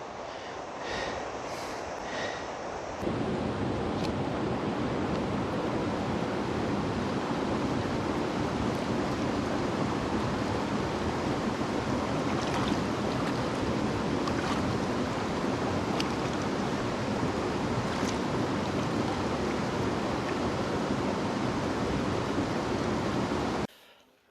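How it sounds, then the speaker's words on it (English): Steady rushing water of Woods Creek on the Rae Lakes Loop flows continuously, a broad even wash like a creek running below, with no voices. "That's Woods Creek down there."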